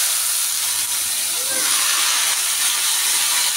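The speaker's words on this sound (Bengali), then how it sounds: "এবার আমি উচ্ছেটাকে ভালো করে ভেজে নেব" Bitter gourd just dropped into hot oil over tempered spices, giving a loud, constant hissing sizzle that fills the whole moment, close and unbroken.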